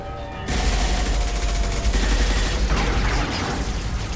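Dense, sustained video game gunfire from a Mass Effect 2 firefight, loud and continuous after a brief quieter lead-in, with rapid overlapping shots and no speech.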